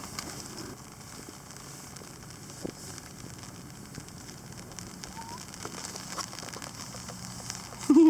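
Rain patters lightly and steadily on a tarp shelter outdoors at lunchtime, a soft crackling hiss with scattered louder drops and a sharper sound at the very end; no one speaks.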